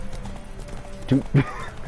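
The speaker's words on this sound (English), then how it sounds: "This horse doesn't have any stamina." Two quick hoof thumps from a horse in The Witcher 3 video game stand out over steady game background sound, with someone talking around them.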